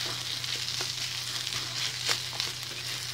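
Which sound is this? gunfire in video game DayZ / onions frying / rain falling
onions frying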